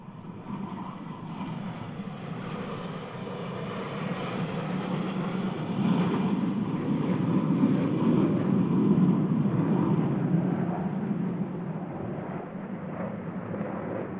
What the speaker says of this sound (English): the boss is going to bring the diamond formation right around, right over top of us